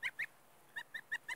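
Geese on a farm give six short honking calls in two groups, a pair followed by a run of four, fairly faint against a quiet background.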